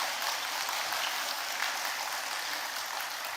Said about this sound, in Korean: 우리 먼저 자녀들에게 힘내라고 응원의 박수 한번 해주시면 감사하겠습니다